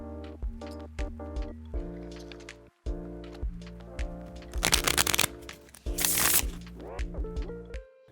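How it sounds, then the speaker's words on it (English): Trading cards are bridge-shuffled up close: a run of crisp flicking riffles, a brief pause, then dense rattling bursts as the cards cascade together, ending in a soft settling clack, with no voices. "doing the infamous bridge shuffle"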